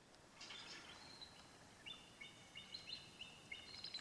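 Birds chirp in quick, thin high calls, scattered and repeating over a quiet outdoor hush, fairly faint and at some distance.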